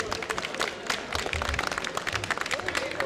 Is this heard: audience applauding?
yes